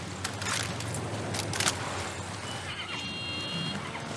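A horse whinnies in a video game, a fairly close neigh over a steady backdrop of game ambience, with a few brief clicks and a faint high tone near the end.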